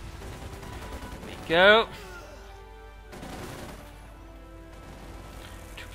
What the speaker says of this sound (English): taking heavy fire from the assault rifles. There we go, quick grenade, flashing them out in the open